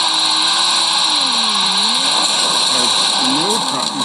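A 2018 Ford Mustang GT with an AWD drift tune revs steadily while drifting in second gear, its engine tone rising and falling in sweeping pitch changes, loud and close throughout.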